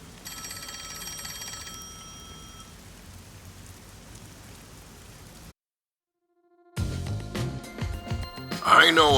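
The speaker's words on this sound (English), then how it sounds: "Oh, the phone. It's a call from the WDO." A phone rings in the Master Detective Archives: Rain Code video game. A steady electronic ring plays for about two and a half seconds over falling rain, then drops out before other game sounds start.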